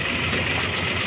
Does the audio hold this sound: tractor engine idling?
yes